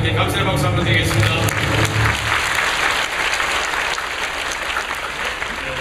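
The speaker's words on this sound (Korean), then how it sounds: "수고하신 분들께 감사의 박수 한번 드리겠습니다." A church congregation claps in thanks, giving a sustained wash of applause that slowly fades, with a voice speaking over the start.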